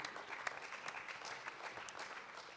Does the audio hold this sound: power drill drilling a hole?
no